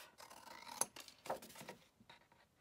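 Scissors snip off the corners of a scored paper sheet for an explosion box craft, giving a few quiet, close crisp cuts and rubbing paper sounds in a short burst.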